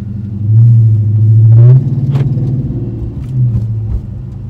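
A Dodge Demon with Hooker headers and no Pedal Commander fitted revs up close by in a deep, loud rumble that rises in a couple of throttle blips, then falls back to a lumpy idle.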